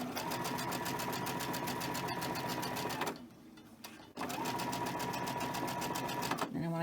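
A sewing machine stitches quilt pieces in two long, loud rapid runs of needle chatter, with a brief pause between them and a voice talking over the sound.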